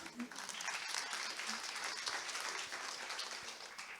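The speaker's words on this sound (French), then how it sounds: "vous pouvez les applaudir" Audience at a French conference on care for people with profound multiple disabilities applauds, a soft, continuous wash of clapping heard at some distance with faint voices beneath it.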